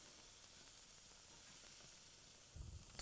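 Bacon sizzles and crackles in a pan, a steady close hiss with a brief soft clatter near the end, no voices.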